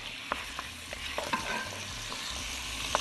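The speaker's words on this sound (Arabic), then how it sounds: "نقلب،" A spoon stirs basmati rice with ghee, salt and black pepper in a pot, giving soft scraping clicks over a low sizzle. The sound is close and moderately quiet, and no one speaks.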